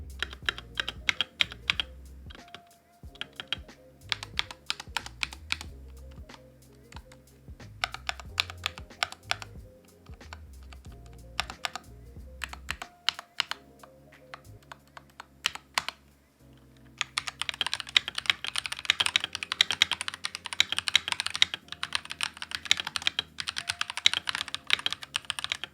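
Stock NPET K611 65% wireless keyboard being typed on, a steady patter of close, crisp keystrokes in bursts with short pauses, turning into a denser and louder flurry of fast typing near the end.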